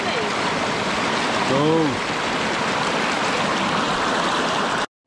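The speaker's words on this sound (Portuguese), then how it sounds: "Bom demais lavar roupa no rio, água gelada." River water flows steadily and close while clothes are washed by hand in the river, a constant rushing wash with brief talk over it.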